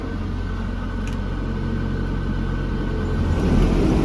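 A Lovol GM80 combine harvester engine idles with a steady, close, low-pitched droning rumble that swells slightly toward the end.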